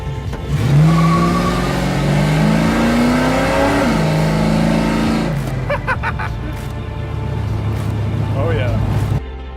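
A 1968 Dodge Charger R/T engine revs loudly on the drive, its pitch climbing through gears before easing to a steady, throaty drone, with people talking over it.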